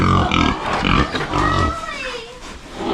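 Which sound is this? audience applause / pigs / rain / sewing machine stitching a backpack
pigs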